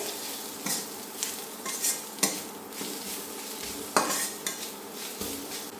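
Turmeric and chili powder being stirred in a hot pan for a prawn curry, with repeated spatula scrapes and soft clinks over a steady sizzle, close and moderately loud.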